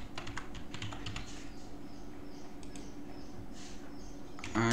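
Typing a subject line on a computer keyboard, a steady run of close, quick key clicks through most of the clip, ending in a louder burst of taps.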